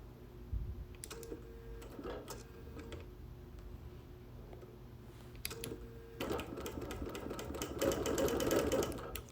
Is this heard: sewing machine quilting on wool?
yes